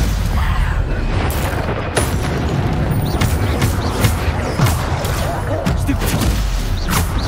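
Spell-casting combat in Hogwarts Legacy on PC brings a dense run of booming blasts and sharp bursts, one after another with little pause, over a constant loud rumble.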